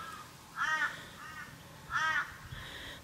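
Crows caw in two clear bursts of harsh calls outdoors by a lake on a calm morning, with a fainter call between them and another at the end over quiet background.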